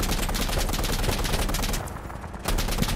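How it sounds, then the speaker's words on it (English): Gunfire in the tactical shooter Insurgency: rapid automatic bursts crackle almost continuously, easing briefly, then resuming. "Back keep firing, keep firing."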